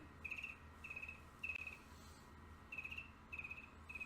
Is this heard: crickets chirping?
yes